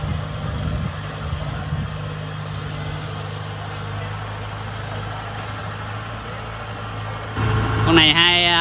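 A Kubota DC70 combine harvester's diesel engine idles at a steady low rumble throughout, with someone talking over it and a louder burst of mechanical noise near the end.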